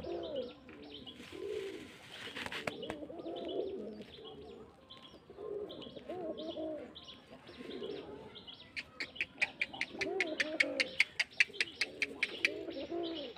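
Rajshahi giribaj pigeons coo repeatedly in a loft, with low throaty calls rolling on and off near and far, some sharper chirps, and a brief flutter of wings.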